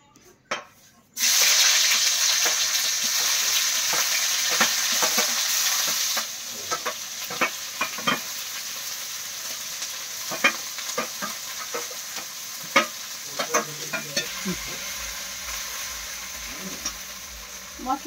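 Onion, green chilli, garlic paste and ginger paste go into a hot wok and sizzle loudly, then settle into a steady frying hiss with scraping stir strokes and clinks. Water also runs briefly nearby.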